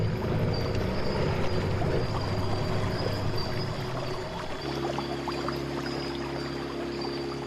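Continuous low engine drone of a boat travelling on a river in South America, with rushing, splashing water noise throughout and a shift in engine tone partway through.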